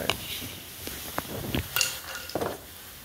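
Fiberglass resin mix being stirred in a cup produces scattered clicks and scrapes, light knocks against the container at an irregular pace, close by with no talking.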